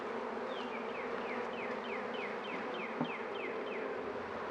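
Honeybees buzz in a steady, close drone while beehives are moved, with many short descending whines of bees flying past and a brief bump partway through.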